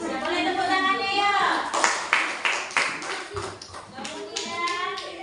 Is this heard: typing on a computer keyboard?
no